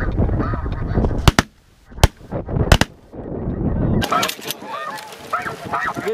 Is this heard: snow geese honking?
yes